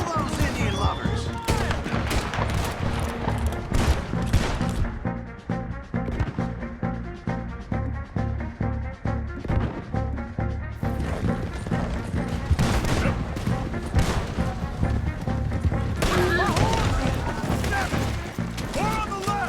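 Rapid, dense gunfire from a large shootout in Red Dead Redemption 2, with sharp shots cracking in quick succession over a steady din of battle and shouting voices.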